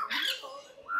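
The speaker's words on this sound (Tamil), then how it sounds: "grey parrot." An African grey parrot at Water World in Kelaniya, Colombo, gives one short, harsh squawk followed by a softer, rising whistle-like call, heard fairly close.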